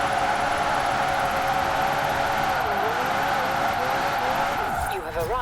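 Engine of a LEGO McLaren Senna in a Forza Horizon-style racing game drifting with an AWD tune, droning loudly and steadily, then dropping in pitch through downshifts to second gear, with tire noise near the end.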